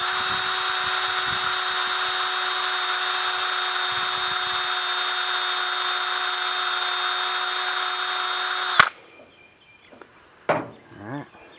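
A power tool polishing an ATV carburetor valve seat gives a steady high whine lasting about nine seconds, then cuts off abruptly, followed by a couple of brief handling clatters.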